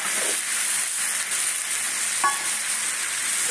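Chillies sizzle loudly in hot oil in a frying pan, a steady close hiss with a brief scrape of stirring partway through and no talk.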